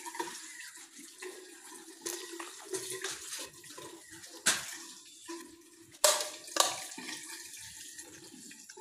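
A resort shower runs with a strong, steady rush of water, broken by a few louder splashes and knocks, at close range and with no talking.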